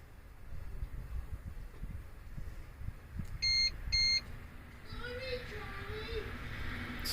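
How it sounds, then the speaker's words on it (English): Two short electronic beeps from a diagnostic scan tool on a 2012 Audi Q5 sound close together near the middle, over a low mechanical hum and faint background chatter. "The beeping is going to be annoying."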